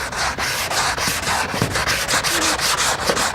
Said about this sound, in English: Curve it, sand it, shoot it.